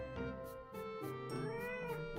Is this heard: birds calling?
no